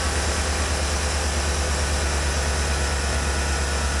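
A 5.3L aluminum LS V8 pulled from a 2014 Chevy Suburban 1500 LTZ runs on a test stand with its belt-driven accessories, giving a steady, loud, even idle rumble with constant hiss and no pauses.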